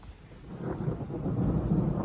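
A deep, rolling thunderclap ending a heavy rainstorm builds and rumbles low and loud, with no voices present.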